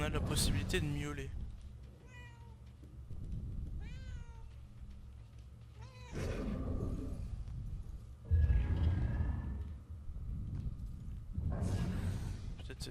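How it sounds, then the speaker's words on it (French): A cat meows repeatedly in the video game Murdered: Soul Suspect, a series of drawn-out mews spaced across the scene, with someone talking between and over them. "Parce qu'on a la possibilité de miauler."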